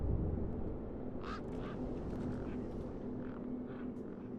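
Faint quacking, squawking bird calls in the video game Beyond a Steel Sky, a few scattered cries over a low, constant ambient hum.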